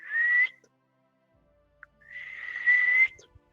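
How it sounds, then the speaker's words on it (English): A person whistles two sustained, slightly rising tones, the first short and the second longer, separated by a quiet pause, clear and fairly close. "He maybe starts to whistle a little bit like"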